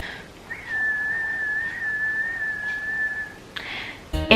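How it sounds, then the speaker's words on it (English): A woman whistles through her nose with a head cold, one steady, clear sustained tone held for about three seconds, alone and close, ending in a brief breathy rustle. "ask me to whistle through my nose and I'll do it for you."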